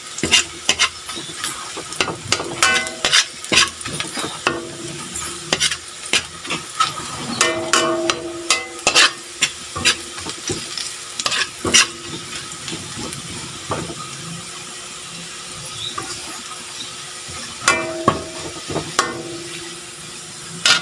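Food sizzles and spits steadily in cooking oil, with a continuous frying hiss broken by frequent sharp crackles and pops, close and fairly loud with no talk.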